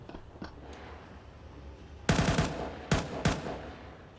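Gunshots during a professional Counter-Strike match: a few faint shots early, then three loud, sharp bursts in quick succession, each with a short crackling tail over a low background hum.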